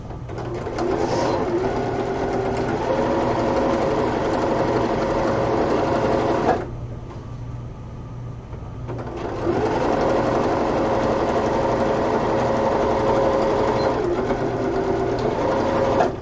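Sewing machine stitching the side seam of fabric for a Freya cosplay from God of War, a loud steady whirring motor run that pauses for a couple of seconds midway, then resumes and runs continuously to the end.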